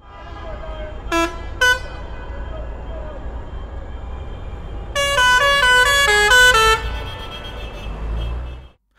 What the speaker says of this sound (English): the almost continuous sound of horns would probably have drowned me out